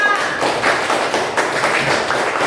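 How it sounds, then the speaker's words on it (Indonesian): A classroom of students claps for a classmate, giving a dense, steady patter of many hands that runs throughout at close range. "Tepuk tangan dulu untuk Bima."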